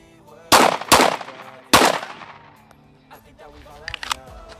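Three sharp, loud pistol shots are fired at a target at close range, the first two in quick succession and the third after a short pause, each ringing out briefly, followed by faint clicks.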